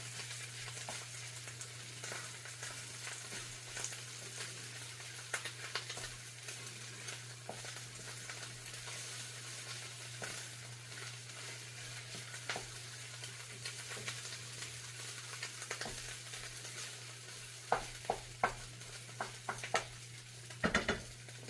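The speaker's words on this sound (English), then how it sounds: "let's see if I can stir my rice a little bit here. It's getting brown on me." Rice browning in a very hot pan on a stovetop while it is stirred, with faint scattered scrapes and clicks of a utensil over a soft sizzle and a steady low hum, growing busier near the end.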